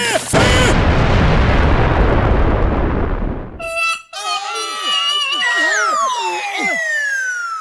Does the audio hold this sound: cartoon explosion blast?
yes